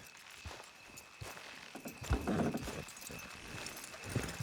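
Horse hooves clip-clopping at a walk in Red Dead Redemption 2, soft irregular thuds over a low ambient background with a faint tonal hum, a heavier cluster of steps midway.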